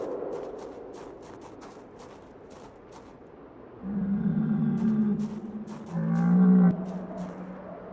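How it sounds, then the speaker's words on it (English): A cow or bull in a survival video game lowing in two long, deep moos close by, the second louder, over soft ambient game sound with faint clicks. "I think I can actually hear a cow."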